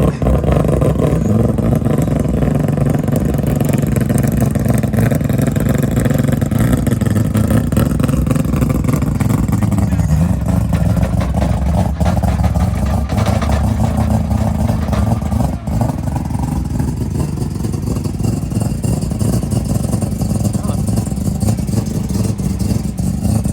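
Race car engine running steadily in the pits at a racing event, a loud, continuous mid-range drone that holds close and dense for the whole span, with faint chatter underneath.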